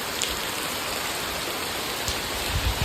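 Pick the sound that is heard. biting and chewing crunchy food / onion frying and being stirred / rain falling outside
rain falling outside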